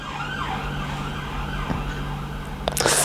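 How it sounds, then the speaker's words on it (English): An emergency vehicle siren wails past at a moderate distance, its rising and falling tone sweeping across the scene, with a low engine hum underneath and a brief clatter at the end. "We'll let that siren go past."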